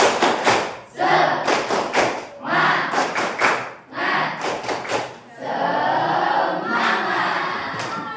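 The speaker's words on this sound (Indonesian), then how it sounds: "Tepuk semangat." A school class of eighth-grade students performs the tepuk semangat rhythmic clap in a classroom, loud patterned bursts of group claps and shouted chant syllables in sections separated by brief pauses.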